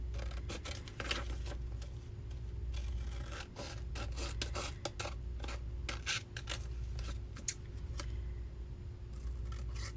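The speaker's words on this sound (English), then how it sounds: "I'm just going to trim around them" Scissors snip steadily around postcards glued onto paper, a run of close, crisp cuts and soft rubbing paper sounds over a low constant hum, with no voices.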